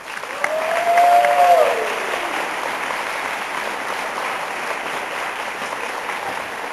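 Audience at a chamber awards ceremony applauding a recipient: a brief burst of clapping that swells and fades after a couple of seconds, leaving quiet room tone.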